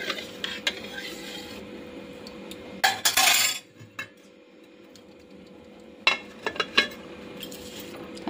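A metal spoon stirs milk mixed with a little leftover curd starter in a pot in a home kitchen, giving a loud burst of scraping clinks midway and a few sharp taps near the end over a quiet background.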